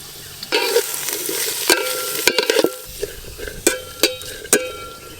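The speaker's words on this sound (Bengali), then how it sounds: "সব সবজিগুলো একদম হালকা করে একটু ভেজে নিয়েছি।" Chopped cabbage, beans, carrot and onion frying lightly in a pan for momo filling, with a steady sizzle and repeated sharp scraping clatters of a spatula stirring the vegetables.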